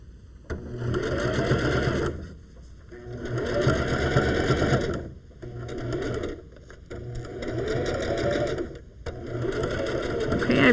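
A sewing machine stitching a fabric seam runs in four or five bursts of fast, steady whirring, separated by brief pauses, loud and close.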